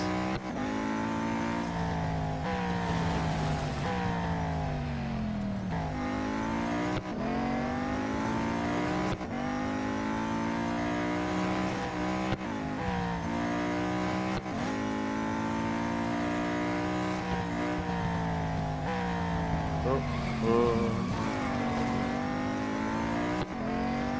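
Race cars in the mobile game Real Racing 3 scream through repeated upshifts and downshifts, their engines rising and dropping in pitch over and over. Loud, continuous engine noise runs throughout without speech.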